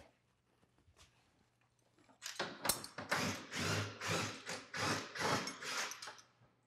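An impact gun working on track bolts, fitted with an extension: after a quiet start with faint knocks, a long burst of rapid hammering rattle sets in, pulsing in waves for about four seconds at moderate loudness.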